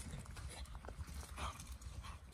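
A small dog chases a group of horses across open hills near Khutor Ilyich in the Otradnensky district, with barking and scattered hoofbeats over a constant rush of wind.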